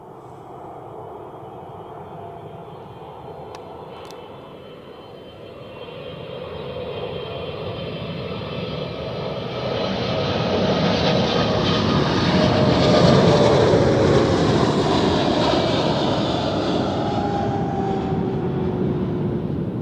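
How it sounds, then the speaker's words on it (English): A Swiss Airbus A321 arriving from Düsseldorf lands at Zurich Airport, its broad jet roar swelling from moderate to loud and steady as it passes close by, with a faint whining tone sliding downward through the rumble. "and then we have a Swiss A321 from Düsseldorf"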